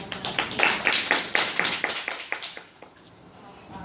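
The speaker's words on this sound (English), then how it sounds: "Let's give applause to this kind of team." Audience applause for a project team after a presentation, a run of sharp claps that is loud at first and then thins out and fades toward the end.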